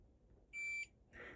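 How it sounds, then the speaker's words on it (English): Door lock reset beep on a 2027 Newmar Summit Aire RV, a single short electronic tone lasting about a third of a second, fairly loud against a quiet background, followed by a brief softer noise. "I just want to press and hold that until it beeps."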